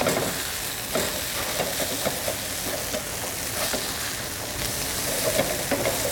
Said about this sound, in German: circa fünf Minuten von jeder Seite braten